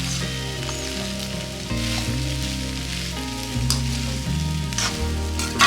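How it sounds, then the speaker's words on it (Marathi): Matar aloo poha, with peas and potato, fries in a pan, giving a loud, continuous close sizzle with gentle, repeated stirring scrapes through it. "पोहे हे हलवताना हलक्या हाताने हलवावेत।"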